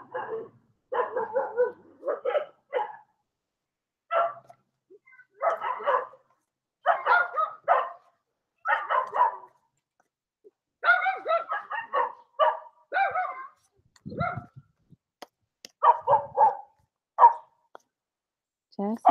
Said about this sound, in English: My dogs are barking up a storm.